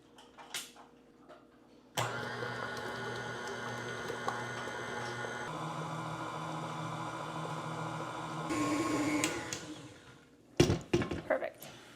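An electric hand mixer runs steadily for several seconds, whirring as it beats melted chocolate into cream cheese for a cheesecake batter. Its pitch shifts partway through, then it stops. Brief clatter and handling noises come before and after.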